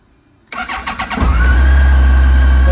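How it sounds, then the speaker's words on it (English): A 2004 Yamaha FJR1300 motorcycle engine cranks with a few quick starter pulses, then catches and settles into a loud, steady idle, close up and with no voices. "Let me get the bike started up and you can hear how she sounds."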